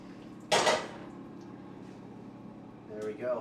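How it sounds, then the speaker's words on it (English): Heavy pot of boiled gnocchi tipped into a kitchen drainer, giving a sudden loud clatter and rush of pouring water, then a fainter knock of cookware near the end. "And we're going to pour it into our"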